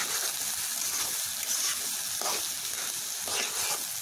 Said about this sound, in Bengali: আমি সবগুলো চাল দিয়ে দিয়েছি, এবার এটাকে আমি তেলের মধ্যে ভেজে নেব।